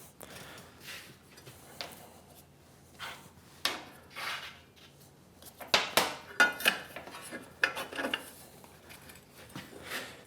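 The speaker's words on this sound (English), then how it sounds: "I'm going to bring in these magnetic shims and put them underneath the parts to hold them up off the table" Magnetic shims set down on a metal welding table in a workshop, a series of sharp metallic clanks and clinks spaced irregularly, some louder than others.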